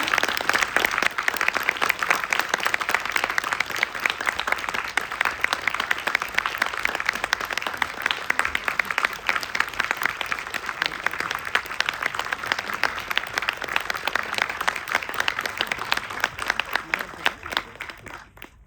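An audience at a Korean film festival screening in a Prague cinema applauds warmly, dense steady clapping that fills the hall throughout and tapers off at the very end.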